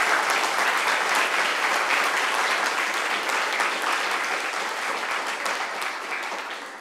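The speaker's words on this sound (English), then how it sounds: "Let's clap to ourselves." A room full of people applauding at a postgraduate diploma graduation ceremony, with sustained, dense clapping at a steady level that fades slightly toward the end.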